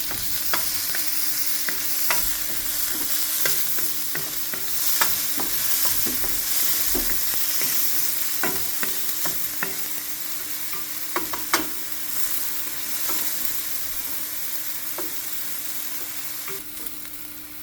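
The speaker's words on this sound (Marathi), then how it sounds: "चॉप केल्लो ऑनियन पळय भाजता" Chopped onions fry for a prawn gravy in a home kitchen, giving a continuous sizzle with frequent sharp scrapes and taps of a spatula stirring the pan, heard alone at moderate level with no talking.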